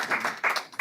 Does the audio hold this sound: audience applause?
yes